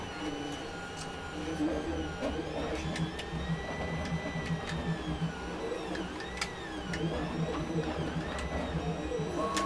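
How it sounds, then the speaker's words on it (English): A 3D printer runs continuously with a busy mechanical whir, its stepper motors squealing and warbling in high rising and falling tones, close and fairly loud throughout. "Y'all sick of listening to my printer squeal."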